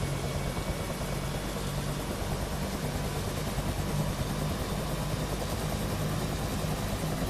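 UH-1 Huey helicopter turbine running in DCS World, a steady broadband engine and rotor roar holding level and continuous without talk.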